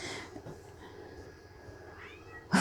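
A rescued cat gives a drawn-out meow that rises near the end, heard close and fairly clear over quiet room background.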